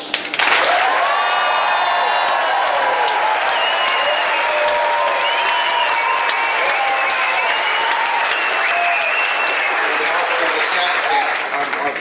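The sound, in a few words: audience applause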